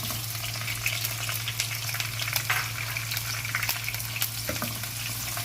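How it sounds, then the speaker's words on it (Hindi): Onions and green chilies sizzle steadily in hot oil for a kadhi tadka, a dense, continuous crackling fry with occasional stirring scrapes over a low steady hum. "ये हम कड़ी का जो है वो तड़का बना रहे हैं।"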